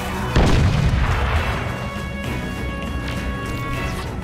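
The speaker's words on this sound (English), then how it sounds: "Oh shit, grenade." A grenade bursts in the shooter Crysis with a sharp, loud boom, followed by rumbling debris and scattered gunfire; the rough low roar lingers and stays fairly loud for several seconds.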